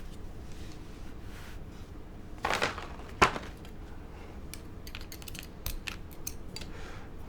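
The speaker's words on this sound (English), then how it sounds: "let's swap over the keycaps" Keycaps clicking and snapping as they are pulled and swapped on a Calla TKL prototype keyboard, a couple of sharper plastic clacks among soft, quiet fiddling noises.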